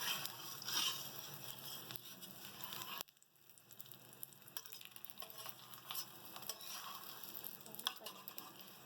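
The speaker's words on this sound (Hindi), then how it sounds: "इसको हम अच्छे से पका लेंगे दोनों साइड से।" Lachha paratha frying in oil on a griddle gives a steady sizzle and crackle, louder at first, then softer after a brief drop, with light stirring and tapping noises and no talking.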